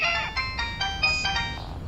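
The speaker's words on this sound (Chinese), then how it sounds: "我先接个电话啊" A mobile phone rings with an incoming call in an indoor office setting, a bright electronic melody of repeated short tonal bursts, close and clear, over a faint low background hum.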